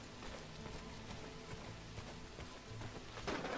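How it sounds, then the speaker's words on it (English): Rain falls as a soft, steady hiss in the medieval city-building game Robin Hood Sherwood Builders, faint and alone, with a few scattered patters and a slight swell near the end. "It's raining in the British Isles?"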